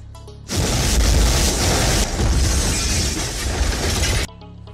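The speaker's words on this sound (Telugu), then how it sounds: "కరెక్ట్గా ఈ టైంలోనే సెకండ్ బాంబు పేలాలి" A bomb detonates in a Telugu independent film from 2014, a sudden, very loud roaring blast with a shattering rush that holds for about four seconds and then cuts off abruptly.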